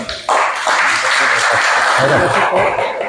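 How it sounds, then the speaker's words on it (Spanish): Audience applause at a political training school session, a loud, steady wash of many hands clapping that starts abruptly and continues throughout, with a voice briefly audible underneath. "Un fuerte aplauso para..."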